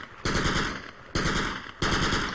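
Automatic weapon fire in a military shooter game, three close, loud bursts of rapid machine-gun shots in quick succession, each burst lasting about half a second.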